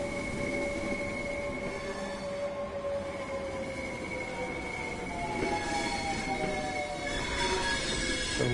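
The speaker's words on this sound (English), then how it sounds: "Got a train coming in." Train pulling into a platform in Train Sim World 3 at night, rumbling wheels on rail with sustained high squealing tones from the wheels and brakes, steady and close throughout with no speech.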